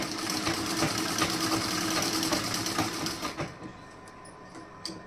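Close sewing machine stitching a shoulder seam in one continuous rapid whirring run that stops after about three seconds, followed by quiet handling noises.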